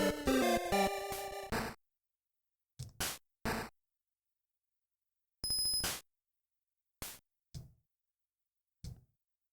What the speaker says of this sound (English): it sounds like the sound of a bell that's actually supposed to be the whistle